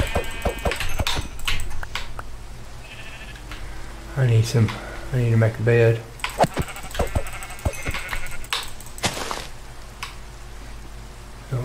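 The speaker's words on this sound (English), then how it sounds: "Don't care about the sheep." Several Minecraft sheep bleat in short, nasal bursts, close and loud, mixed with clicks and footsteps from the game while someone talks over them.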